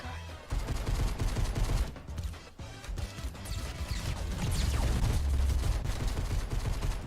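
Gunfire in a shooter video game, with repeated sharp shots and crashing impacts in close, loud bursts over busy game noise.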